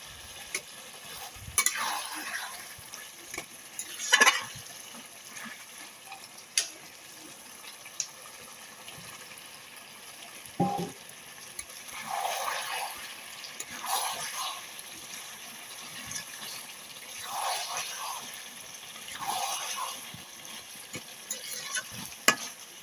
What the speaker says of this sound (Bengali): মাংস আলু ভালো মতো কষিয়ে নিয়েছি